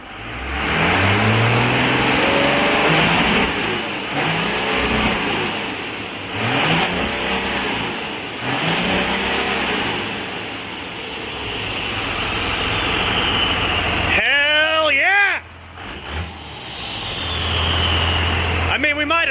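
A 12-valve engine, freshly started, revs hard through several rising and falling sweeps during a first governor test, loud and close, with a brief gap and a voice speaking near the end before it settles back to idle.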